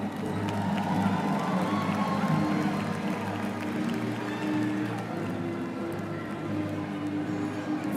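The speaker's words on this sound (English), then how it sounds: "let us clap our hands, let us applaud" A large audience at a university commencement ceremony cheers and applauds. It forms a continuous, fairly distant roar of clapping and voices, with a low steady hum running beneath it.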